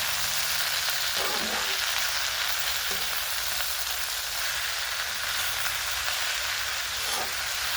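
Tender spring onion greens fry in hot oil, giving a constant loud sizzle and hiss. A few soft stirring knocks break through it, with no talk.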